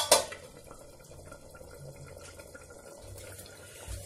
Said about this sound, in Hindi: ये मटर उबल रहा है